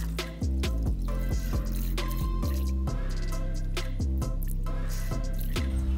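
Water drips from worm blankets soaked for a Subpod composting bin, landing as a series of plinking drops with a pitched, falling tone. The drops fall irregularly, close to the listener, with no talk.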